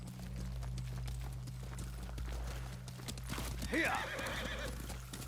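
A horse in Ghost of Tsushima gallops with steady clip-clop hoofbeats under a low ambient drone, then lets out a loud, close whinny near the end; faint voices sit beneath.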